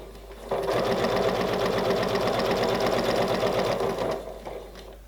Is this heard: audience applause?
no